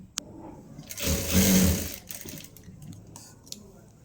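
A sewing machine stitches the lining of a puffed sleeve in one close, steady whirring run of about a second, framed by softer clicks and handling noises, with faint talk.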